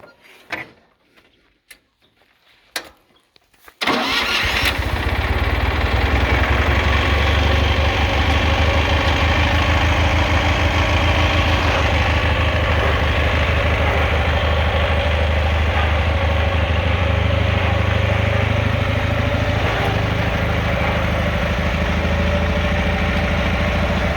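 A KhTZ T012 mini tractor engine starts after a few seconds of faint clunks, then idles loudly and steadily up close with a deep, even chugging rumble that continues unchanged to the end.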